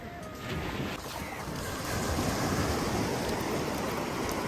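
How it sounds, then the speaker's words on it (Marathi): Fishing boat coming in from the sea at a Malvan fish market shore, heard as a steady broadband wash of engine, water and wind noise that swells slightly and holds loud throughout, with no voices. "आताच ही बोट दर्यावरून आलेली फुल मच्छी."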